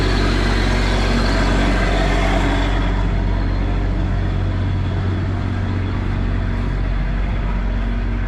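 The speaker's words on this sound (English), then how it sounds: "Here's the MT85 Bobcat mini skid loader." A Bobcat MT85 mini skid loader's engine runs steadily and loudly up close, a low continuous rumble with no talk over it, beside a pile of dirt for grading a backyard.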